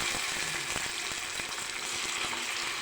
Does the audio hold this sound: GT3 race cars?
no